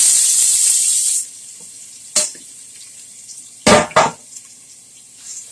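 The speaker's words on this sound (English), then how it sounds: "I'm going to take all of this goodness, the carrots, the celery, the onion, the garlic, and I'm going to put it here" Chopped carrots, celery, onion and garlic hit hot vegetable oil for chicken noodle soup, giving a loud hiss that cuts off after about a second, followed by a few scattered knocks and scrapes of stirring.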